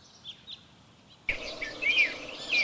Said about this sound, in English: Greenfinch.